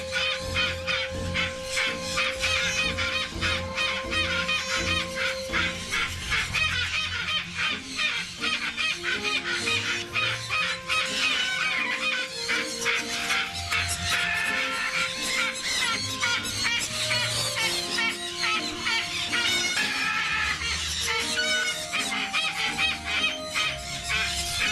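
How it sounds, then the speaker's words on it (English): A pair of blue-eyed Triton cockatoos with yellow crests, held at an exotic bird facility, give repeated harsh squawks and shrill calls that run steadily throughout, loud and close, with no talking. "This is a pair of blue-eyed Triton cockatoos."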